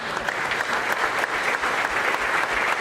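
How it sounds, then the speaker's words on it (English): An audience at a 2018 business summit and State of Chico address breaks into steady, dense clapping, close and evenly sustained throughout without any talk over it. "you should applaud him for that, too"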